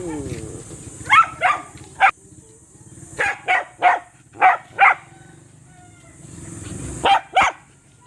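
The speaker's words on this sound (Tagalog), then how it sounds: "Yung dalawang aso." Two dogs bark in short bursts on a mountain outing, about ten sharp barks spaced irregularly, fairly close, over a faint steady background hum.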